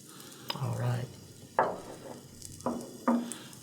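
Garlic hitting hot oil in a pan while cooking Chinese broccoli, sizzling close by in several bursts as it is stirred, with clinks of a utensil against the pan.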